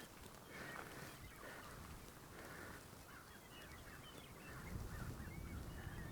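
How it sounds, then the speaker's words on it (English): Crows, quail and other birds calling in the distance over a steady wash of outdoor ambience on a hiking trail, faint caws and chirps scattered through the background. "You can hear the crows and the birds."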